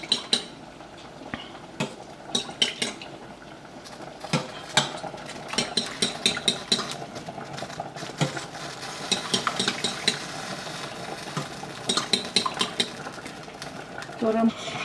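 Spoon clinks and scrapes against a bowl or pot as hot broth is stirred into an egg and lemon mixture for Greek dolmades soup, a steady run of sharp taps with a faint voice in the background.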